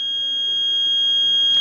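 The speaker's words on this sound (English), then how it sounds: "the buzzer is ringing whenever the CO value is very high." The buzzer of a homemade gas meter alarm system sounds a loud, steady high-pitched tone, triggered by a high carbon monoxide reading. It rings close and continuously throughout.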